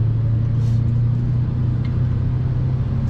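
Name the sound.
car parking on a street in Marseille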